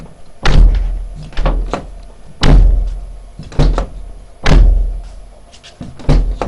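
Car doors on a body-repaired Mercedes-Benz W202 estate are shut repeatedly, about a dozen solid thuds arriving in irregular groups, loud and close, with no talking.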